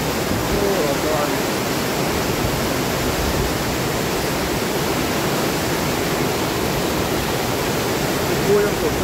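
Powerful rushing water in Switzerland roars and sprays without pause, a loud, steady wash of noise that stays even for the whole stretch.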